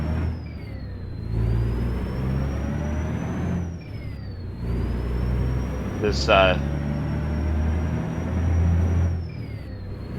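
A Kenworth W900 truck with a Detroit engine in American Truck Simulator drones low and steady, its pitch dropping sharply at each gear shift, with a hiss partway through and someone talking briefly over it.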